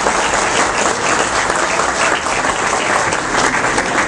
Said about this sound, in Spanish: yo creo que se merecen no solamente un aplauso, sino que un fuerte aplauso para estos comunitarios